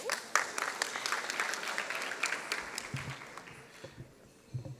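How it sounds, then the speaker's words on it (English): Steady audience applause with dense clapping that thins out toward the end, a few scattered claps lingering. "Please do give him a big round of applause."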